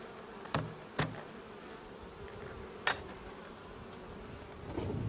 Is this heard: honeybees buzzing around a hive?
yes